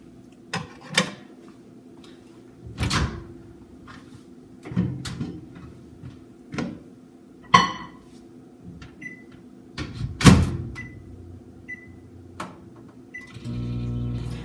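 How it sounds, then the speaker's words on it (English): A coffee mug cake heats in a microwave oven, with a door clunk, button beeps and scattered clicks and knocks over a low hum, ending as the fan-like drone rises. "we are going to stick the coffee cup in the microwave for 1 minute and 30 seconds"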